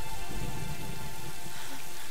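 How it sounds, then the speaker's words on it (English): Rain falls steadily in the Tomb Raider video game, a dense continuous patter of drops on surfaces with no voices over it. "It's raining."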